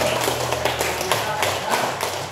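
Students in a classroom clap their hands together in a steady, fairly loud rhythm of repeated sharp claps, close by and continuing throughout.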